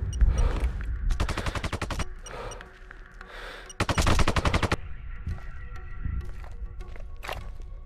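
Bursts of automatic gunfire in the video game Sniper Ghost Warrior 2, loud and close, with rapid rattling volleys separated by brief pauses and single shots near the end.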